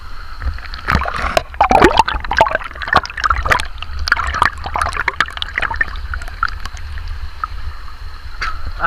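Shallow, low stream water trickles and splashes over stones close by, with bright irregular bursts of bubbling and sloshing throughout.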